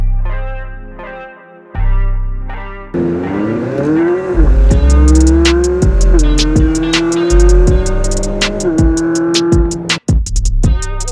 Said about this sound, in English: That is one of the best sounding cars I've ever heard.